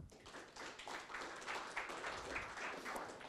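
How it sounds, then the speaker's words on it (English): A round of applause for the speakers at a graphite masterclass: steady, fairly faint clapping from a small audience, sustained without a break for a few seconds. "So one more round of applause for them."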